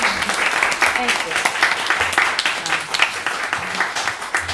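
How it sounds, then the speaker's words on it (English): A council meeting audience applauds a newly introduced police officer, a lively burst of many hands clapping close by with some talking mixed in. "I definitely appreciate the applause"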